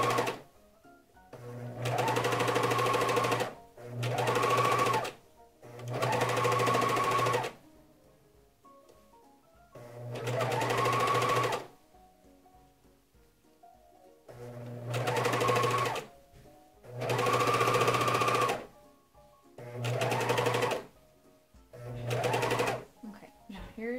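A serger stitches three layers of velour diaper fabric in a run of eight loud motor bursts, each one to three seconds long, separated by short pauses, close up with no talk.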